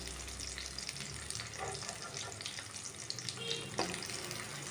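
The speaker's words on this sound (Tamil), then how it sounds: "ஸோ இந்த மாதிரி நல்லா ரோஸ்ட் ஆகி வர வரைக்கும் நல்லா அதை வந்து ஃப்ரை பண்ணிக்கோங்க" Tomatoes frying and roasting in a pan for chutney, a soft steady sizzle heard faintly with a low rumble beneath and a couple of light utensil touches.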